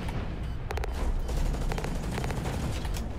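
Gunfire striking a mech's feet in the game Hawken: a constant heavy rumble of battle noise with several short, rapid bursts of metallic impacts rattling close by.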